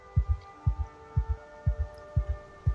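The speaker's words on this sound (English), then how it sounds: "The heart SFX make me feel kind of sick" Game heartbeat effect in a Project Zomboid-style survival game: steady double thumps, lub-dub pairs about every half second, deep and close over a low constant hum, with no talk.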